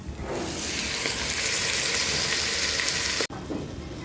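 Pork pieces sizzle and fry steadily in a hot pan for papaitan, a continuous close bright crackle that breaks off briefly near the end and then resumes.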